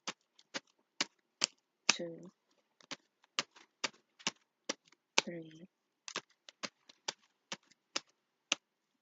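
Crisp clicking snaps of tarot cards being shuffled, repeated in a steady rhythm nearly a dozen times, close up, with brief spoken words in between.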